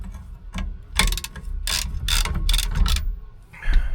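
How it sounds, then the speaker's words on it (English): A wrench ratchets off the rusty 3/4 nut holding a classic car or truck steering wheel, giving several bursts of close, loud clicking with short pauses between them. "I'll go ahead and get this nut off"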